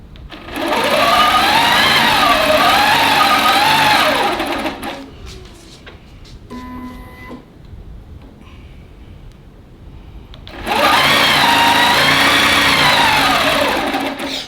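A long-arm quilting machine stitches fabric on a tote bag project in two sustained bursts of about four seconds each, its whirring motor rising and falling in pitch, loud and close, with a quieter pause between.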